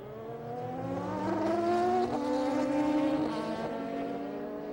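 Le Mans Series endurance race cars from 2005 roar past on track, engines rising to a loud peak then falling away as they pass close by, with gear shifts audible and no talking.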